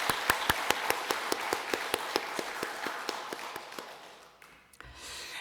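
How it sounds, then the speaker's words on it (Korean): A church congregation at a Sunday service in Ulsan claps after a sung performance: sharp, evenly spaced claps in a steady rhythm, gradually thinning and fading toward the end. "다시 한번 뜨거운 격려의 박수 부탁드립니다."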